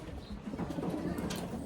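Racing pigeons arrive at a loft in Cabanatuan, Nueva Ecija, after a 182 km fun race, with soft cooing and fluttering rising over a steady outdoor bustle throughout.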